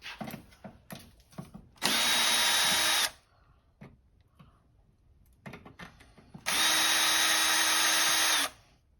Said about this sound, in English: I use power tools a lot because I love how fast they are to use